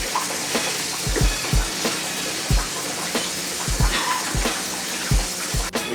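Boiled beans tipped into a strainer, water splashing and draining through in a loose run of wet gushes and soft thuds, fairly close and loud with no talking.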